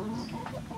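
Chickens clucking softly near a solar fan in a backyard coop, a faint, steady murmur of hen sounds over low background hum.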